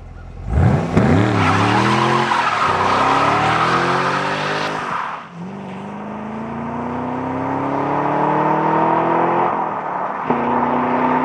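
A 2011 Chevrolet Camaro SS doing a burnout on a quiet country back road: a loud, close V8 roar climbing through the revs with a harsh sustained tire squeal, a brief dip, then a long steady howl.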